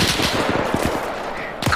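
Gunfire in the military game Arma 3: a dense, loud volley of overlapping rifle and automatic shots, irregular cracks rolling together, with a sharper shot near the end.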